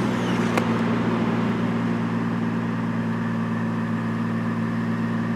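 A Chevrolet Trailblazer inline-six engine runs close by with a steady, droning idle during an oil pressure test, holding the same even hum from start to finish with no talking.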